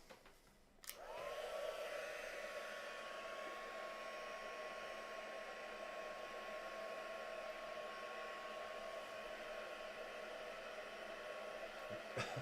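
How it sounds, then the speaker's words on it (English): A heat tool switches on with a click and blows a steady, even whooshing roar while drying a wet craft project, holding constant and close before cutting off at the end. "what I'm going to do is artificially dry it a little bit with a heat tool"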